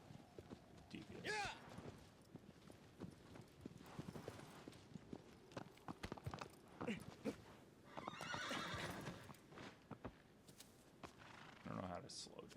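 A horse in the video game Shadow of the Colossus, with repeated rhythmic hoof clip-clops, several shrill whinnies and neighs, and game sounds mixed in, while a voice talks over it at times.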